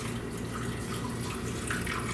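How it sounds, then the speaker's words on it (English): Water pours steadily into a pan over rice and onion soup mix for a pork chop one-pan dinner, a continuous close, splashy gush with no talking. "So I'm going to pour the water on top of the rice and the onion soup mix."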